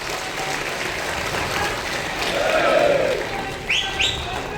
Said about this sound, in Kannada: ನಾವೆಲ್ಲ ನಿಮ್ಮ ಜೊತೆ ನಿಲ್ತೀವಿ ಅನ್ನೋರೊಂದು ಜೋರಾದ ಚಪ್ಪಾಳೆ